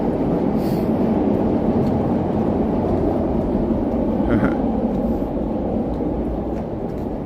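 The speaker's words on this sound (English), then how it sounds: "You hear the Red Line subway underneath here." A Chicago Red Line subway train rumbles beneath a Gold Coast street, a steady, loud, continuous low roar that holds for the whole stretch with no voices over it.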